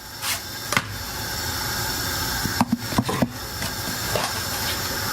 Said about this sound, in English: As you see, it's a nice rolling boil.